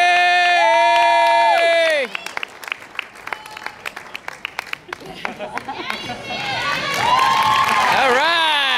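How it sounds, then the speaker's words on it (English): Crowd at a university gymnastics ECAC Division II championship clapping and cheering for vault award winners, scattered claps under loud shrill cheering and children's shouts that swell and fall, with voices prominent throughout. "a big round of applause for our award winners on the vault"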